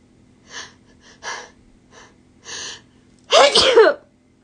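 A person takes several short, sharp in-breaths, then lets out one loud, close sneeze, alone in a quiet room.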